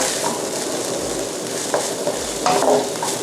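Tofu being stir-fried in a pan for a Thai kua kling dish, a loud close sizzle running throughout with repeated scraping and clacking stir strokes and no voices.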